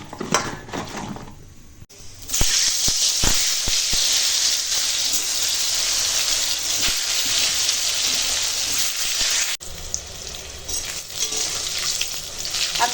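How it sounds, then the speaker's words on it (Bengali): Pieces of pointed gourd frying in oil make a continuous close hiss that starts after a brief pause, holds steady for several seconds and then quiets before resuming. "এখন পটল ভাজবো তার সঙ্গে একটু কুমড়ো ফুল আছে"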